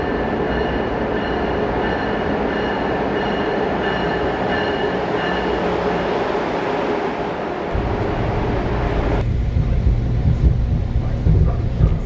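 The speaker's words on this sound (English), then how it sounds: "And now we're waiting on Acela 2168." Acela Express train at a Philadelphia station, a steady loud rumble of rail noise with a deeper low-end surge as the train draws in partway through, continuous throughout.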